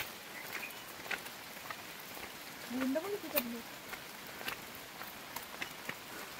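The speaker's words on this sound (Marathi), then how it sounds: "बघा पाऊस आला लगेच" Rain falling outdoors near a village, a steady soft patter close by with scattered drips, while a person talks over it.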